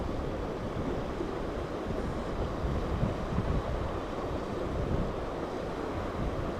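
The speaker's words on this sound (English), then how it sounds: "Sorry if the wind is a little aggressive." Aggressive wind buffets the microphone beside a private dam while fishing for goldeye, a dense continuous roar of rumbling gusts with no pauses and no voices.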